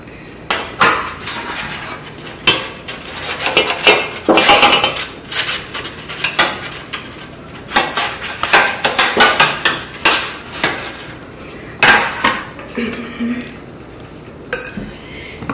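Metal baking pans for meat pie, already greased with vegetable oil, clatter and clink repeatedly in a kitchen, with loud irregular bangs and scrapes over about fifteen seconds and no talking.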